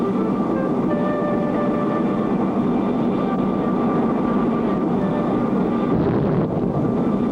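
A small backyard-built test aircraft in flight, its engine a steady, loud, continuous drone with a faint whine on top, alone without voices.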